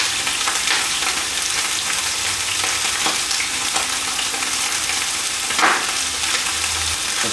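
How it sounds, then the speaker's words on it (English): Oxtail and lamb pieces sprinkled with white pepper are stirred in a hot pot for a Cantonese-style stew, producing a loud continuous sizzle close by, with occasional scraping stirs and a sharper clatter near the end, no speech. "So stir it around and sprinkle more white pepper to make sure each piece of meat has some of that white pepper."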